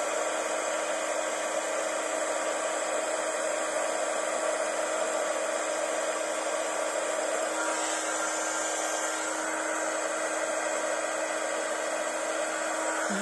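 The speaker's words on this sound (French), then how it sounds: "Donc, je reprends mon pistolet à chauffer. Et cette fois-ci, vous allez voir apparaître le doré." A heat gun blows a loud, steady, close whooshing hum without break while melting gold embossing powder on a handmade poinsettia greeting card.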